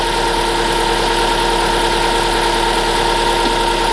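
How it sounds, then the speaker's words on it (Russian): A Subaru Forester engine idles loudly and steadily after a timing belt and roller replacement, a continuous drone with a persistent high whining squeak riding on top. "Как он так со сквистом работает, ГРМ?"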